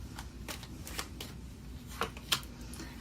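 Tarot cards riffled and drawn from the deck, a run of quick papery flicks and slaps, close up and moderately loud against a faint background, with nobody speaking.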